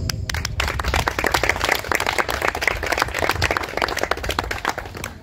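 A crowd at the opening of a mountain bike trail in Lyulin Mountain claps steadily for several seconds, dense applause filling the space at even loudness with no speech over it.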